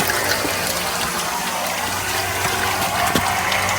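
Water runs down into a drain channel along damaged, loosened mortar, a loud, steady gushing flow that continues close by for the whole stretch without pause.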